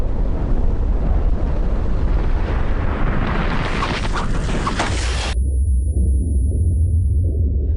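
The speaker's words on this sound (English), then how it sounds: "violent base surges as superheated gas and ash roar out at over 100 kilometres an hour" A deep, continuous rumbling roar of a volcanic eruption base surge, superheated gas and ash rushing at over 100 km/h, with bursts of crackling noise, loud and sustained, then cutting down to a low heavy rumble near the end.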